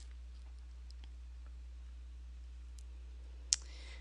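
A computer mouse clicks once on a search button, a single sharp, close click near the end of an otherwise quiet stretch with low steady hum.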